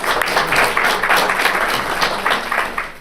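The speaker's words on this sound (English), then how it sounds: "Please clap." An awards ceremony audience at the AFC-USA 2019 Honorary Awards and Scholarships event applauds, with steady, dense clapping that fills the room for the whole stretch.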